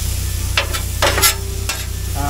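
Bison burger patties frying on a Blackstone griddle at a campsite give a steady close sizzle, broken by a few scraping, stirring bursts from a spatula across the hot metal.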